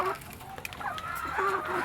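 Chickens being fed on a farm with a storm approaching, several birds clucking and calling close by in short overlapping bursts over a steady background hiss of wind.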